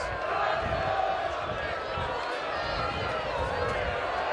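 Rugby league crowd at a Featherstone versus Leigh match applauds a substituted player, Andy Bostock, as a dense, steady roar of clapping and crowd noise fills the stadium beneath ongoing commentary.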